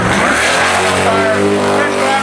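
The engine of an off-road racing truck, the number 40 ultra forward vehicle on Ditto tires, revs loudly and continuously at close range with a rough, throaty drone.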